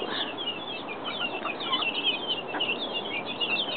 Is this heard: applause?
no